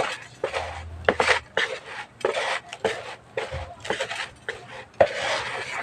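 Cactus and succulent soil mix being scooped into a dish garden, giving repeated scraping, gritty rustles and light clinks from the dish, in short bursts spread across the clip, fairly close with no talk.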